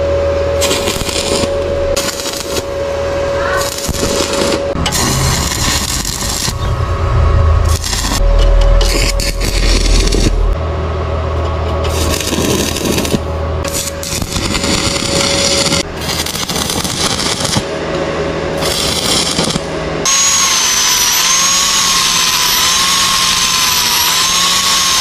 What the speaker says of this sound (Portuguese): Eu vou dar uma preenchida boa na solda aqui e um acabamentinho aqui